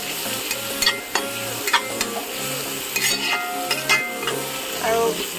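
Finely chopped onions with turmeric sizzle in a pan while a spoon scrapes and stirs, giving a steady hiss broken by repeated metallic clinks and scrapes against the pan, close and fairly loud.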